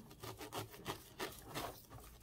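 A small knife saws through azalea roots while a bonsai is being prepared, making quick, rough, scraping strokes at a brisk, even rhythm, close up and alone.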